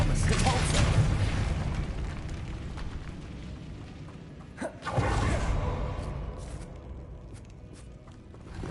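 A spell blast from a wizard's wand in Hogwarts Legacy, a deep boom with a whooshing burst near the middle, set over a dense rumbling game soundscape with footsteps and ambient noise.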